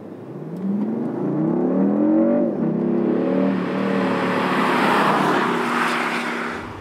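A 2019 BMW i8 Roadster plug-in hybrid pulls away from a traffic light, its engine note climbing through rising revs and a gear change, loud and sustained from inside the car.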